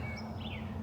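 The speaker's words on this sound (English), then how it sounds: "Hear the birds singing." Faint birdsong with a few thin chirps and a short whistled trill over a low, steady background hum.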